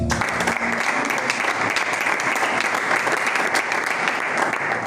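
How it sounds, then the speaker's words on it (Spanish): A church youth meeting congregation applauds, a dense sustained round of clapping filling the room at even loudness. "Dale un aplauso al Señor."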